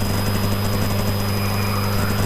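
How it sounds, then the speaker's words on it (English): Small airplane engine in flight with full fuel and luggage aboard, heard from inside the cabin: a loud, constant propeller drone with a deep steady hum and faint pulsing, no voices. "And the plane flies great."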